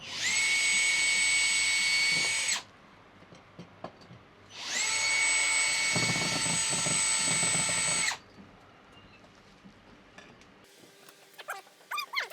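A power drill driving screws in two long, loud whining bursts, each a few seconds, with quieter handling clatter and small scrapes between and after.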